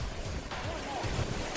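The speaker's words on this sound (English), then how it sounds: "It's pretty windy day here in Oklahoma." Strong gusting wind on a blustery day in north central Oklahoma, a steady broadband roar buffeting the microphone, with trees blowing and dust kicking up.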